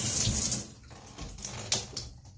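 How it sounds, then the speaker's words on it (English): A cold shower runs at an RV park, a steady spray of water hissing close up, its flow broken and splashing unevenly toward the end. "Ooh, so good to have a cold shower."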